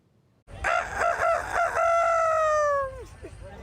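A person imitating a rooster's cock-a-doodle-doo at a human rooster-crowing contest at a fair, one loud drawn-out crow with wavering opening notes and a long falling finish, close and clear over faint background murmur.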